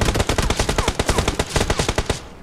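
Rapid automatic gunfire in PUBG Mobile, a fast, steady stream of loud, close shots in quick bursts that continues for a couple of seconds.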